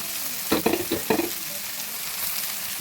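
Beans and onion fry lightly in a pan alongside carrot, a constant sizzling hiss with a brief burst of stirring clatters early on, near and without speech.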